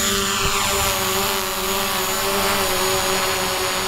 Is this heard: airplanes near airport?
yes